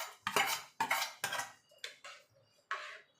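A spoon clinks against a glass or bowl while stirring sago into cold milk for a sharbat, six distinct metallic scrapes in an uneven rhythm, close and fairly quiet.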